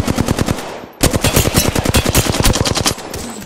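Rapid automatic gunfire from Apex Legends, loud and close, a burst that breaks briefly before a longer fast string of evenly spaced shots.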